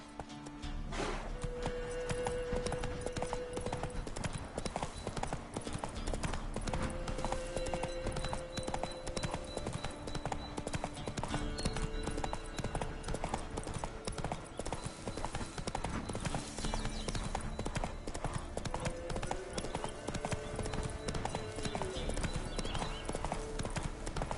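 Roach, Geralt's horse in The Witcher 3, trots along with steady, close clip-clopping hoofbeats that run throughout under a game music bed, with an occasional snort or whinny.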